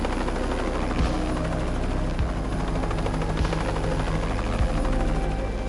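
Helicopters in a post-apocalyptic film scene give off a loud, continuous rotor thump and engine buzz that hold steady for several seconds, with no talk.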